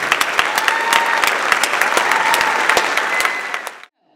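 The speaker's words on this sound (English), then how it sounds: "Let's give them a round of applause." An audience at a spring recital gives sustained, loud applause, many hands clapping densely with a few sharp individual claps standing out, before cutting off abruptly into near silence.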